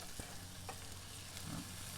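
Vegetables fry in a little butter in a pan with a steady, close sizzle and crackle that runs throughout, with occasional stirring scrapes.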